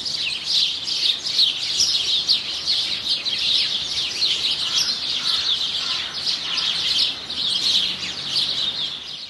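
Small birds chirp and tweet at a backyard feeder, with busy, overlapping calls repeating throughout at moderate volume.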